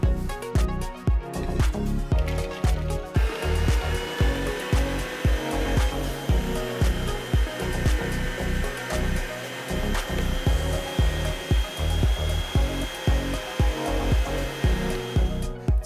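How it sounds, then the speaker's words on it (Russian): Meat grinder mincing nuts and banana for a banana-nut cake batter, a continuous loud motorized whir with dense rhythmic grinding knocks throughout, no voices. "Теперь при помощи мясорубки я буду измельчать орехи и банан."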